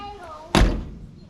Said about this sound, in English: Driver's door is not latching as much as it's supposed to, but it does shut.